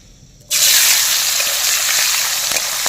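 Onions hit hot oil in a frying pan for chili chicken after a short quiet moment, bursting into a loud, sustained close sizzle that keeps crackling steadily to the end.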